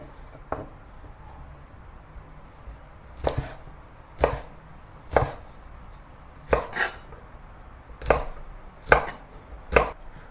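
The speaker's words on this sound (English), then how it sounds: "cut away both ends, and then cut the long beans into sections." Long beans chopped into sections with a kitchen knife on a board, about nine distinct close chops spaced irregularly, a few in quick pairs, against a quiet background.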